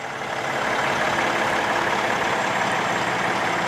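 A 2020 Peterbilt 567 truck with an X15 Cummins turbo diesel and heated automatic transmission idles close by, a steady, loud, low rumble holding constant throughout with no voices.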